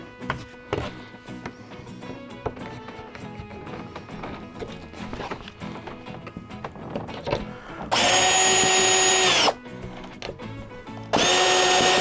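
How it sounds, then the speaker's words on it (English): A power drill bores into plywood on an HO scale model railroad layout, with two sustained loud whirring bursts late on after a stretch of clattering workshop handling noises. "So let's drill a few more, and then we'll seat our plywood."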